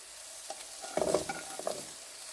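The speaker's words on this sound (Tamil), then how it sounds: "பூண்டு, வெங்காயம், இது ரெண்டும் லேசாக வதங்கி வரட்டும்" Garlic and onion sautéing lightly in a pan, with soft stirring scrapes and quiet sizzling pulses clustered through the middle, close and fairly faint.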